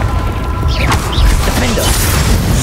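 A Confringo spell blast in Hogwarts Legacy booms loudly amid dense game combat noise, heavy low rumble with crackling bursts over about three seconds, with voices shouting spells nearby.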